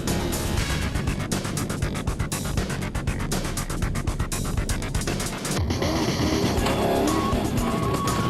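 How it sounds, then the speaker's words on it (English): Toyota and Nissan Navara rally cars racing in a South African off-road endurance event, engines roaring loudly and continuously with revving, passing and skidding tyres, the sound shifting abruptly partway through as a car goes by. "The Toyota nipped ahead of the Nissan, and with Whitehouse and Carlson in hot pursuit"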